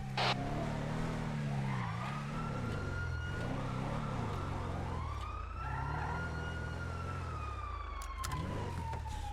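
A police siren on a sheriff's car in a video game wails in continuous rising and falling sweeps, loud and close, over engine noise with no talking.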